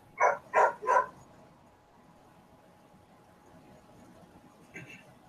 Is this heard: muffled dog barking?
yes